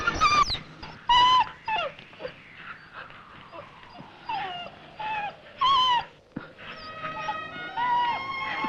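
A dog in a movie scene gives repeated high whimpers and yelping cries, some drawn out and sliding in pitch, broken by short pauses and faint background sound.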